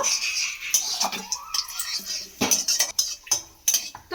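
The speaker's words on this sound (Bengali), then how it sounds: "দিয়ে একটুখানি ভেজে নিতে হবে মানে ফোড়নটা মিষ্টি একটা গন্ধ আসা পর্যন্ত খুব ভালো করে ভেজে নেব" Cinnamon, cloves and cardamom fry as whole spices in a pan while a utensil stirs them, giving sharp metallic clinks and scrapes in irregular bursts over a faint background.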